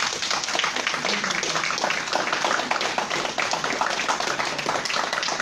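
A crowd claps in applause for a teacher at a gathering, steady and dense throughout, with no pauses and no voices standing out above it.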